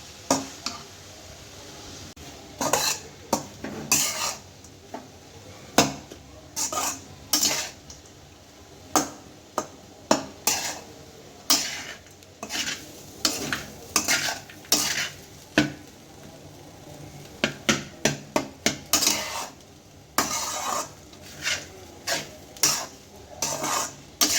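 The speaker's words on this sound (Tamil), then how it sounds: "இப்போது இதை நல்லா சேர்த்து கலக்கணும். கலந்து சேர்த்து நல்லா பிரிக்கணும்." Crumbled idli being mixed into upma in a pan, repeated close metallic scrapes and taps of a spoon against the pan in irregular bursts over a faint low sizzle, with no talking.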